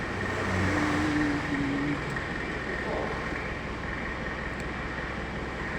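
A truck engine idles steadily at a cement warehouse where it waits to be loaded, a low rumbling drone with a brief rise near the start, heard moderately at some distance.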